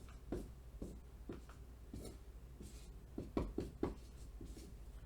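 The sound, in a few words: writing out a math equation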